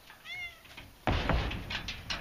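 A cat meows with a short wavering call early on, followed by louder knocking and rustling thumps nearby, with no talking.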